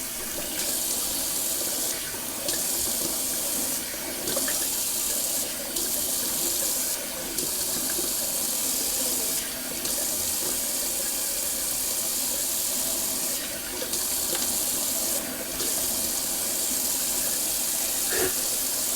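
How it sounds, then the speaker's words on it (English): Tap water runs steadily into a sink for a cold rinse while wet shaving, a continuous close hiss of flowing water with brief dips where the stream is interrupted. "Just gonna do a cool cold water rinse."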